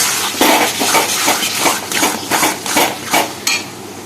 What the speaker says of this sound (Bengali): কচুর শাকটা কিন্তু এইভাবে অনেকক্ষণ অন্তর অন্তর ভালো করে নেড়ে দিতে হবে